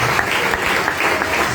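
A church congregation at a sermon bursts into dense, loud applause, many hands clapping together in a continuous roar through the short moment.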